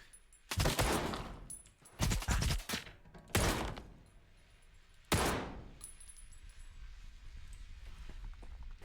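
Loud bursts of automatic gunfire in S.T.A.L.K.E.R. 2: Heart of Chornobyl, four sharp volleys spaced over several seconds with quiet gaps between, the last one trailing off.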